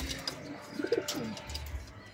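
Domestic pigeons in a breeding loft coo softly, with a low murmuring call near the middle of the clip over a faint background hum, and no talk.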